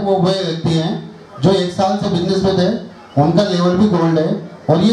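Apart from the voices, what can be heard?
None of the usual background noises is heard.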